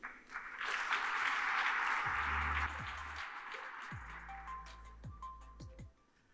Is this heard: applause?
yes